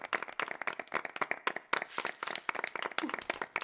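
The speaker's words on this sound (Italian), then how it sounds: "Adesso facciamole un caloroso applauso." Classroom of pupils clapping together to welcome a new student, a dense run of close, sharp handclaps lasting several seconds with uneven bursts and no talk over it.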